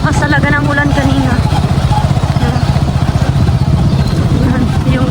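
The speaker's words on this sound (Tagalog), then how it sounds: "Pumagi ng tricycle" A tricycle passes through deep floodwater in a mountain village after heavy rain, its motorcycle-type engine chugging steadily and loudly up close while a person talks over it.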